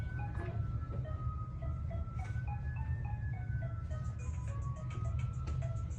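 Yankee Doodle played as a chiming, music-box style melody from a recording, a bright tune of steady, evenly spaced notes running throughout over a constant low hum.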